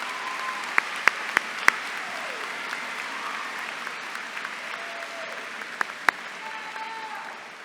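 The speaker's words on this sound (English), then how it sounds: "Round of applause, please, for them." A graduation ceremony audience at Whitehall High School applauds steadily for the student speakers, a dense wash of many hands clapping with a few sharper claps standing out near the front.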